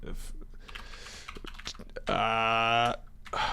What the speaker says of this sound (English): So I apologize in advance about this keyboard typing.